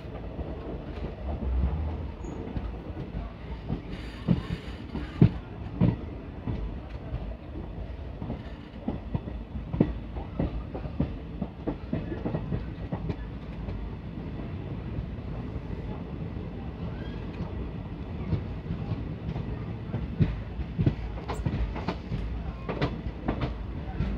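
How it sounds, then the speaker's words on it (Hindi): A broad-gauge train pulls into platform 1 at Mailani Junction, with a rumbling ride and rhythmic clickety-clack of wheels over rail joints and occasional faint squeals, steady and fairly close from inside the coach. "हमारी ट्रेन जो है वो प्लेटफॉर्म नंबर 1 पर जा रही है मैलानी में।"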